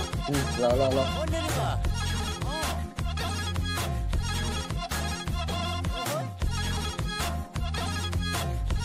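A mobile phone rings with a loud musical ringtone, a steady beat and melody playing continuously without any voices.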